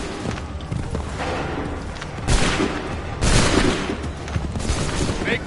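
Musket volleys in Assassin's Creed 3, a dense rolling fusillade of shots with louder bursts standing out, reverberant battlefield noise throughout, with faint voices under it.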